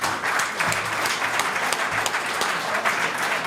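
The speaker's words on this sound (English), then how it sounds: "A little applause for Tim, please." An indoor audience applauds at a live grill event honoring a guest, a dense, even wash of clapping from many hands that holds steady throughout.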